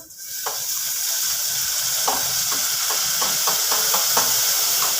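Sour tomatoes fry in hot oil with cumin, mustard seeds, asafoetida, onion, chilli and garlic for a methi leaf sambar, giving a loud, steady sizzle broken by repeated sharp stirring clicks and scrapes of a spoon.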